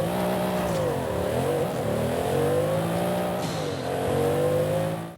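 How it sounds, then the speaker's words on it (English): Mercedes-AMG GT Black Series engine in the racing game Forza Horizon 5, a loud, steady in-game drone with harmonics that swoop down and climb again as revs change, continuous for the whole stretch with no talking. "let's go ahead and take a listen to that Mercedes AMG engine and go and see what it sounds like"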